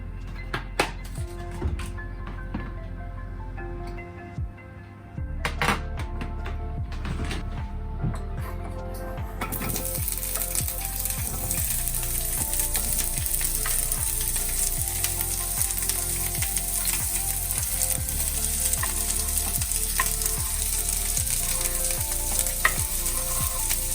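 Vegetables sizzling and frying in hot oil in a pan for a salt and pepper chips dish, quiet at first, then a loud, steady hiss that fills the remainder, with occasional stirring clatter.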